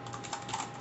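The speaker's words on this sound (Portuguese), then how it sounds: "Aí você vai digitar o meu e-mail aqui, ó." Typing an email address on a computer keyboard, a quick, steady run of light key clicks heard close up for under a second.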